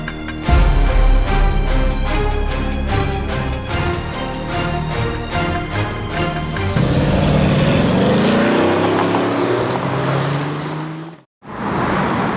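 A rare one-off Ferrari drives by loud and close, its engine revving in a rising harmonic wail that swells into a broad roar as it passes. The sound then cuts out briefly before the car rushes on.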